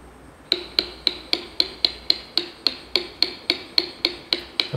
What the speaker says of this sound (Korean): 이렇게 망치로 두드려서 글자 하나를 갖다가 이렇게 글자 주변을 갖다 따냅니다.